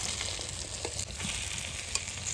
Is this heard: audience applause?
no